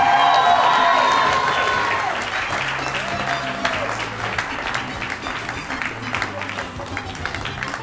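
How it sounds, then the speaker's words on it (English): An audience at a game show event applauds and cheers, loud at first, then settling into scattered clapping beneath talk and a few whoops. "Give him one more round of applause to kind of fire him up a little bit."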